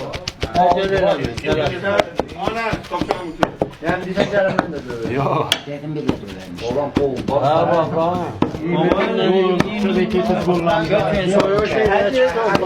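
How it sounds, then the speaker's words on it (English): A heavy cleaver rocks back and forth on a wooden chopping block, mincing meat, fat and onions for Irani kebab at an Asian street food stall, giving rapid, steady, loud knocks under ongoing talk. "just taking that sword and just rocking it back and forth on the board, on the chopping block, just mixing the meat and fat and those onions"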